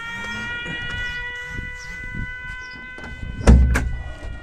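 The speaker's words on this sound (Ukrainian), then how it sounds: "Повітряна тривога." A civil defense air raid siren wails as a steady multi-tone drone, with a louder burst of noise near the end.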